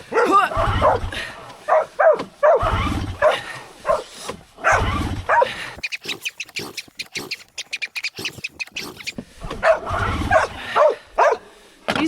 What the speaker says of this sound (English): Putting my earmuffs down for Tilly's barking